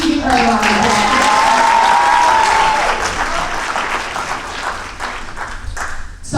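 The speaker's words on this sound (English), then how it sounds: "Can we please give her a round of applause?" Audience applause at a live hosted event, a dense wash of clapping from a crowd that swells loud at first and gradually thins out, with a voice briefly sounding over the start.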